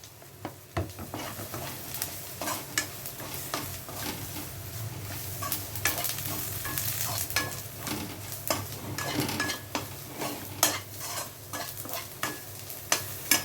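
Spices sauté in coconut oil in a pan for a Kerala-style fish dish, a low sizzle under repeated scraping and clinking stirs of a utensil against the pan. The sound is close and rhythmic throughout, with no voices.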